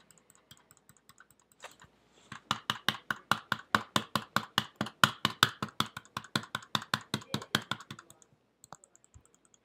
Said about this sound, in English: Click, click, click, click, click.